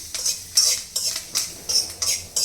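A metal spoon scrapes and clinks against a pot in a steady rhythm of about six strokes, stirring tempering into tomato rasam, close by, with a faint sizzle underneath.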